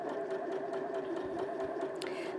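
Janome 5060 QDC sewing machine stitching at medium speed, a steady close whir with a fast even needle rhythm running throughout the short stretch.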